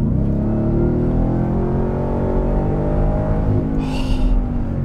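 2023 Ford F-150 Raptor R pickup truck engine, a loud, continuous low rumble with a revving drone that holds steady, close and dominant, with a brief hiss near the end.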